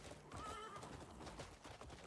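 A horse in a video game whinnies, with clip-clopping hooves underneath, heard faintly at a moderate distance with no talk.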